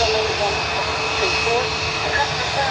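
DHL cargo aircraft from Leipzig at Dublin Airport, a loud, continuous engine rumble with whining tones, heard close while a voice talks over it.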